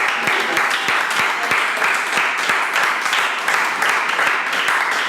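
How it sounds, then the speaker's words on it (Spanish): Sustained crowd applause, many hands clapping steadily and fairly close, with a faint voice or two underneath. "un aplauso para la doctora"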